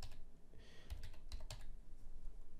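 Quick clicking keystrokes on a computer keyboard while entering text in Photoshop, close and moderately loud in a short irregular burst with no talking.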